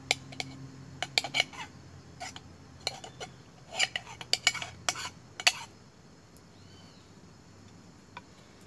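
Rice stirred in a pot over a campfire in the bush, a scatter of light metallic scrapes and clinks from a utensil against the pot, close and intermittent, with faint outdoor ambience.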